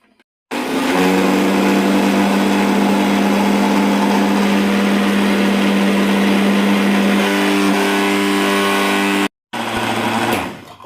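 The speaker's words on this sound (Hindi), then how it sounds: "और अब मैं इसको ग्राइंड करूँगा।" Electric kitchen grinder whirring loudly and steadily as it blends guava chutney with black pepper powder, a continuous high motor drone that shifts pitch slightly near the end, then cuts off briefly and restarts.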